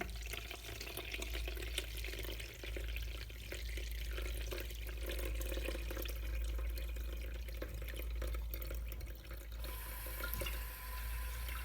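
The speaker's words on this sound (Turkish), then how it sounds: "şimdi süzmeye başlıyorum" Brine shrimp hatching water poured and strained through a sieve, a steady close splashing trickle that runs continuously for about twelve seconds.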